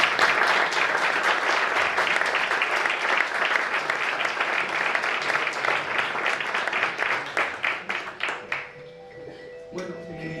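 Audience applause at a book presentation, a dense burst of clapping that thins into scattered individual claps before fading, followed by faint murmuring and a ringing tone.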